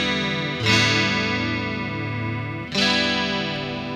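A sustained instrument tone through a Steinberg dspMixFx chorus effect, two loud notes several seconds apart, each ringing out with a shimmering, swirling texture.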